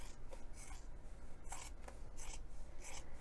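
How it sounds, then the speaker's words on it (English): Scissors trim a fabric seam on a messenger bag in the making, a few soft snips and rasping cuts repeated close up over a steady quiet room hiss, with no talking. "we're going to be trimming this seam in half"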